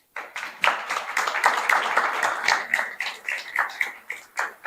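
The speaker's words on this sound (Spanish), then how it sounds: "pueden dar un gran aplauso para la doctora Mutes" Applause for Doctor Mutes at a dental meeting, a modest crowd clapping that starts abruptly and carries on unevenly, with individual sharp claps standing out near the end.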